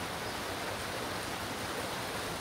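Water runs steadily into a small dam at a tropical stream, a soft, even rushing hiss that holds constant throughout with no voices.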